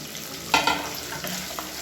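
Garlic, shallots and curry leaves sautéing in a hot pan, a soft continuous sizzle with a couple of sharper spatters as the mix is stirred, fairly close and quiet, no voices.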